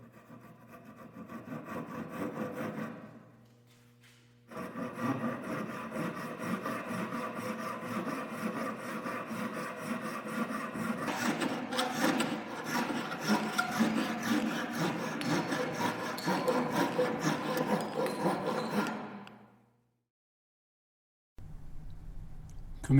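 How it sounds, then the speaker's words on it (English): Small wooden kumiko pieces are rubbed back and forth on sandpaper fixed to a board, a close, continuous gritty rasp that pauses briefly, resumes and grows busier before stopping. "get a piece of sandpaper and attach it to a board, and then just rub them down slightly like this until they fit perfectly."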